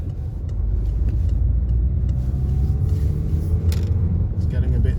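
A car's engine rumbles low and steady as it pulls away from a roundabout junction during a driving lesson, with faint road noise and no talking over it.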